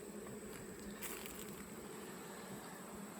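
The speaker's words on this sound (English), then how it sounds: "I've got bees leaping off onto the grass." Honeybees hum around an open hive during an inspection, a steady close buzzing swarm that holds faint and even throughout without any speech.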